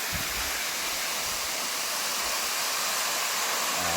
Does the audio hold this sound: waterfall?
yes